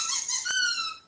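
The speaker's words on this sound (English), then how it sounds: "Squeak bear says he doesn't know." A squeaky toy bear gives one drawn-out, bright rubbery squeak lasting about a second, close and fairly loud, with no talking.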